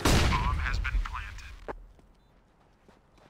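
A grenade goes off in Counter-Strike on the Mirage map, a loud, heavy blast right at the start that rumbles and fades over about a second and a half. Players talk over it, and fainter game clicks and pops follow.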